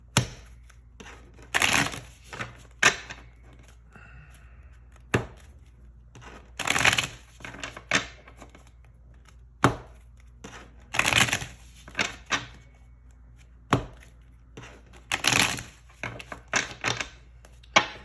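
Tarot cards being shuffled in a series of crisp riffles and slaps, with brief quiet gaps between bursts, close and fairly faint.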